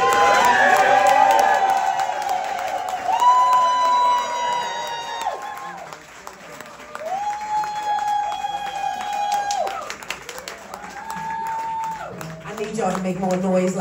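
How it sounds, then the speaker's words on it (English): An audience at a cultural innovator award event in Baltimore claps and cheers, with whoops and shouted voices rising and falling in waves over roughly fourteen seconds, loud and close. "Please put your hands together again and join me in applauding"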